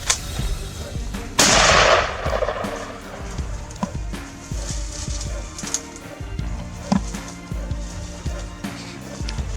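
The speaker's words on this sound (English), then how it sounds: "With one precise shot, the largest hog dropped instantly." A single sharp rifle gunshot cracks loud and close during a feral hog hunt in Texas. It is followed by a brief echoing tail and then quieter outdoor rustling and scattered small knocks.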